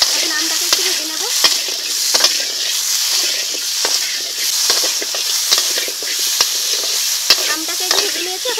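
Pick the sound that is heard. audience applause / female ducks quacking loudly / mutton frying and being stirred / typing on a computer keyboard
mutton frying and being stirred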